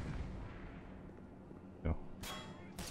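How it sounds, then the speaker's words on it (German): A thrown grenade in Black Mesa bursts with a sharp close blast, followed by two more harsh crackling bangs over a low rumbling backdrop. "Werfe eine Granate."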